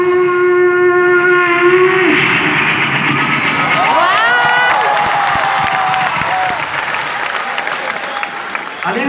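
A performer's voice imitates two trains crossing each other, with rising and falling whistles, rumbling and clattering. Applause and crowd cheering mix in, and the whole performance is loud and close.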